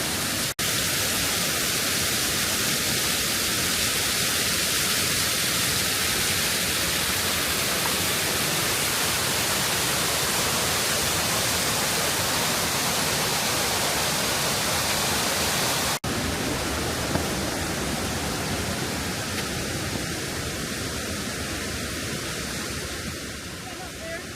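A waterfall at the Birks of Aberfeldy in Scotland rushes in a steady, dense, close roar that stays loud and unbroken throughout, with no gaps or changes in level.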